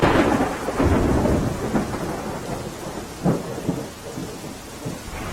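Heavy monsoon rain pours steadily in Gujarat's Kheda district, with deep rumbles of thunder rolling through and a sharper crack partway in, all continuous with no voices.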